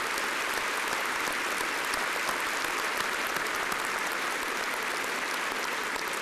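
Sustained applause from a large commencement crowd at Louisiana Tech honoring the president, staff and faculty, a dense, even roar of clapping that fills the hall without pause.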